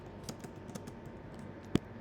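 Keys clack on a computer keyboard as an email-writing prompt is typed: a steady run of light, close taps with one louder keystroke near the end, no talking.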